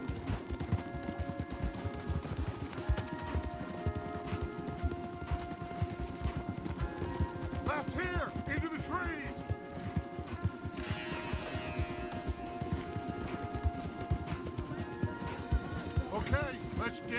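Horses gallop in the Red Dead Redemption 2 video game, a fast, continuous clatter of hooves under a busy mix with a musical score, with occasional whinnies and snorts.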